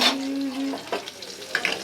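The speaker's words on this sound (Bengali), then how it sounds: "তার আগে একটুখানি মাছটা নেড়ে আসি।" Fish frying in a pan and being stirred, giving a brief spell of soft sizzling and a few scraping stirs, heard close and alone.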